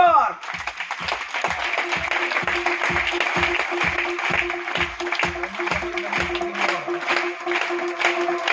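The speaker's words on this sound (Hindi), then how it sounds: "तालियां जोरदार।" An audience aboard a cruise ship gives a loud, steady burst of rhythmic clapping that keeps going for several seconds, with a voice heard over it.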